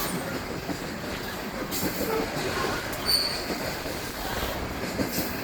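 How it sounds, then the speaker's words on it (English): A loaded Powder River Basin coal train in Wyoming rolls past and gathers speed, with a continuous rumbling roar of wheels on rail and faint metallic squeals, heard from a distance. "This train is picking up some speed."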